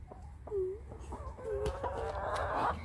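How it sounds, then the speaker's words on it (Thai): Chickens in a home coop give a run of short clucks and squawky calls at moderate loudness, with a low background rumble beneath them. "มาเล่นกับไก่นะลูกนะ"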